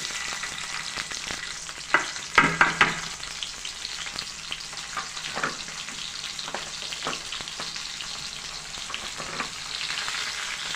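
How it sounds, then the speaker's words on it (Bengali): Chopped onion, green chili and garlic fry in hot oil for a pointed gourd dish, giving a continuous close sizzle with scattered stirring clatters and a brief louder burst early on. "আমি কেটে রাখা পেঁয়াজ কাঁচামরিচ রসুন তেলের মধ্যে দিয়ে দিব"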